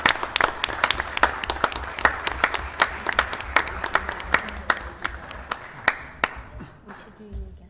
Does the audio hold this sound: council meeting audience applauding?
yes